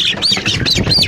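A month-old chick, a Marans, Legbar, Yuhe or village breed, squawks loudly and close while being picked up, giving about four rising harsh calls in quick succession over handling noise.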